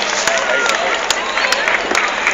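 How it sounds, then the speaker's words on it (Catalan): Steady, dense clapping with scattered sharper claps and some crowd noise greets cyclists reaching the finish line of a 2013 race in Banyoles, heard close and fairly loud throughout. "L'aplaudiment a tots aquests que arriben."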